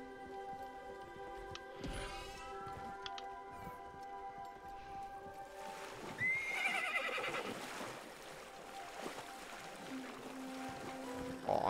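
A horse neighs in the Minecraft Legends video game, two clear whinnies rising over a steady musical drone, with faint hoof and movement sounds between them.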